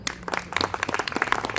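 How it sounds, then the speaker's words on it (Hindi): An audience at a happiness symposium claps together, a scattered patter of many hands close by, moderately loud, with no talking over it. "अपने लिए एक बार तालियां बजाइए"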